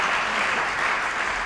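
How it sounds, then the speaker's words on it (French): A short burst of audience applause rings through a lecture hall during a presentation on a cardiovascular centre, dense and continuous for about a second and a half. "Ça mérite un grand applaudissement"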